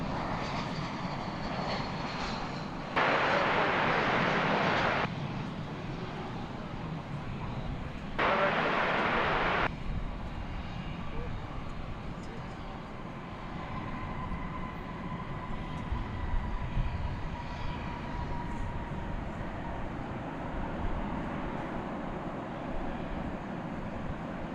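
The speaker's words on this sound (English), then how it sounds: "You just saw American Flight 2514 arriving from Phoenix, Arizona, an Airbus A321." An American Airlines Airbus A321 arriving from Phoenix, Arizona at Dallas Fort Worth airport gives a steady distant engine rumble throughout, with two brief louder bursts of broadband noise early on.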